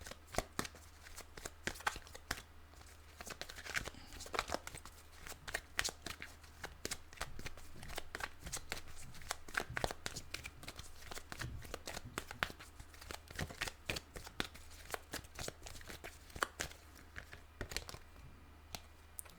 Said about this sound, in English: I was actually shuffling an oracle deck